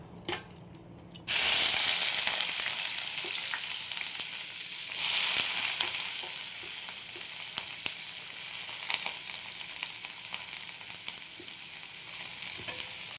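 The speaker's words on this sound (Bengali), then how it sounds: "দেখো পেঁয়াজগুলো ভাজা হয়ে গেছে" Roughly chopped onions hit hot oil in a pan and burst into a loud sizzle that settles into steady frying, with occasional clinks of stirring and no talking.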